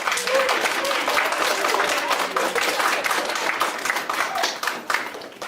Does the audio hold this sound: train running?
no